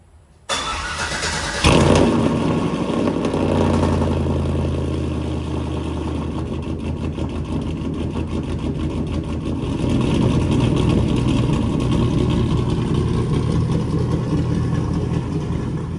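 A truck engine cranks briefly, catches with a burst, then settles into a steady, rumbling idle that runs on evenly.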